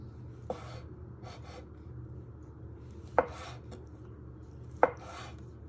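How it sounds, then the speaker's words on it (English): A knife cuts through a ball of mozzarella in three distinct soft strokes against a cutting board, each a short crisp tap with a brief scrape, spaced a couple of seconds apart in a quiet kitchen. "you just want to slice it into little pieces"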